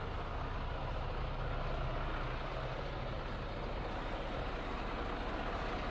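A semi truck fitted with snow chains and snow socks drives along, its steady engine roar and broad rumbling road noise continuous and loud throughout, with no voices.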